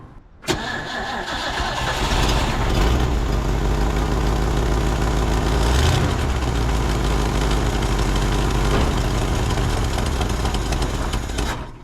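An abandoned 1950s Ford tow truck engine cranks loud and close, starting abruptly and grinding on in a continuous laboring churn with a brief surge midway, then cutting off at the end.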